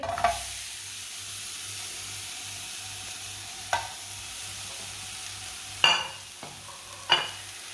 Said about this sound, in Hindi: खजूरों को नरम होने तक पका लेंगे।